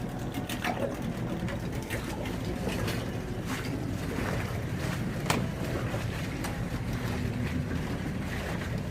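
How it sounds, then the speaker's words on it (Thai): A small boat delivering food between dining pavilions glides across a fish pond: a steady, close wash of water and motor noise with gusty wind buffeting, continuous throughout and with no talk. "โอเคเรือออกจากซุ้มแล้วครับผม ก็วนไปส่งซุ้มต่อไปนะครับ"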